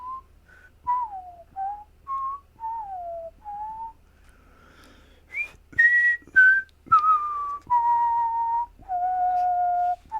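A person whistles a wandering melody of short and held notes, clear and close, with brief pauses between phrases.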